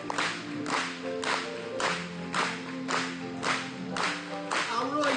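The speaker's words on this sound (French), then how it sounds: "Acclamez une fois de plus pour lui." A church congregation claps in steady rhythmic unison, a dense wash of hands beating roughly every half second and continuing throughout, with sung or hummed tones underneath.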